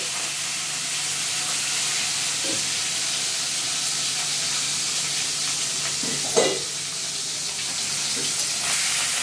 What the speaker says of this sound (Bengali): এবার দিদি চিংড়ি মাছগুলো তেলের মধ্যে ছেড়ে দিল।